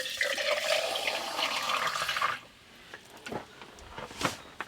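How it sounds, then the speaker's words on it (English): Clear, ice-cold well water runs from a tap in a steady, fairly quiet rush for about two seconds, then cuts off, leaving soft drips and small clunks. "Nice, clear water from the well."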